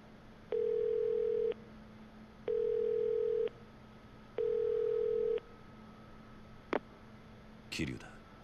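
A payphone rings in the Yakuza 0 video game: three long, steady electronic ring tones at a regular pace, each about a second long, followed by a click and a brief rustle as the receiver is picked up.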